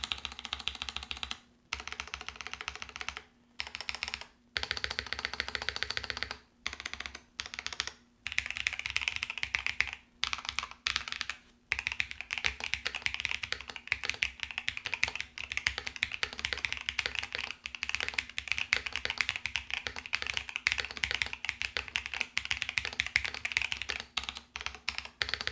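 Steady typing on a Razer BlackWidow V4 75% mechanical keyboard, dense clacky keystrokes running continuously with a few brief pauses, close and crisp, no voices.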